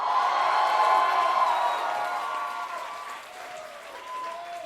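An audience at a Latin dance night show applauds and cheers. The clapping is dense and loud, with whoops, and it gradually thins and fades.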